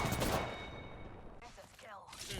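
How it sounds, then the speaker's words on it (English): Gunfire from an Apex Legends match, a burst of rapid shots near the start followed by scattered sharper reports and mechanical clatter, fairly close and moderately loud. "In this clip, we're rotating to some gunfire close by."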